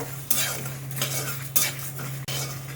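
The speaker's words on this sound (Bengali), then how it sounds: "এই মশলাটা এবার আমি ভেজে নেব। প্রথমে একটু ভেজে নেব। গোটা জিরে, গোটা ধনে, গোটা মৌরি দিয়ে দেবো, দিয়ে নাড়ব।" Whole cumin, coriander and fennel seeds are dry-roasted in a pan and stirred, giving scraping, rustling strokes with a light crackle, three main sweeps and a sharp tap near the end, close over a steady low hum.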